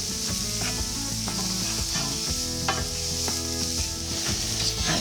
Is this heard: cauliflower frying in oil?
yes